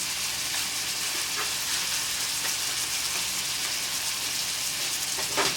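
Meat for homemade spaghetti browns in a hot pan, giving a steady, loud, close sizzle and crackle that runs unbroken, with faint stirring scrapes and no talking.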